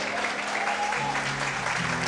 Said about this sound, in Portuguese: Todos podem aplaudir e exaltar o Senhor bem forte